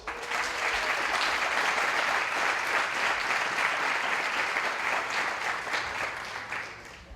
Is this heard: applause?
yes